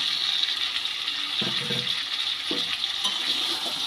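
Spiced jackfruit is stir-fried in a pan with fried potatoes, giving a steady, close oily sizzle with a few soft scraping stirs of the spatula partway through.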